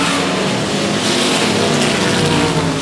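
Race cars lap the quarter-mile track at 105 Speedway, a loud, steady engine roar that holds throughout with no break.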